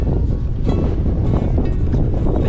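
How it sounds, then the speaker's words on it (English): Strong wind sweeping across open downs, roaring and buffeting close to the microphone in a loud, constant rush with no break for the whole clip. "It's bloody windy today."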